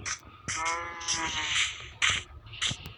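Sheep in the video game Minecraft bleat in a few short, wavering calls mixed with clicks and other game sounds, while someone talks over them.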